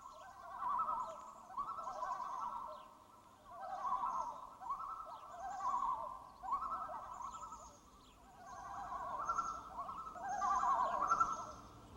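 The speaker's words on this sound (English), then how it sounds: "can we lose the birds?" Outdoor birds sing in repeated bursts of bright chirping and warbling phrases, moderately faint and fairly close, with no voices over them.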